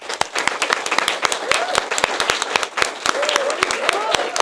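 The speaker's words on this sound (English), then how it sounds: "Please give her a round of applause" An audience at a board meeting gives a round of applause: a steady spread of sharp individual claps through the whole stretch, with a few voices rising over it.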